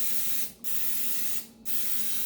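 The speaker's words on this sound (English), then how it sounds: "Be generous when you're spraying." Three long bursts of cooking spray hiss close by onto a pan, separated by two brief pauses.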